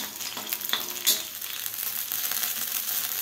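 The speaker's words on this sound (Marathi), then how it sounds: "आता आपल्या मिरच्या परतून झालेल्या आहेत।" Chillies sauté in a pan with a close, steady sizzle, broken by a few sharp scrapes and stirring clacks early on, with no voices.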